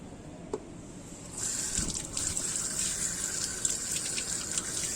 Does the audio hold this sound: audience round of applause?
no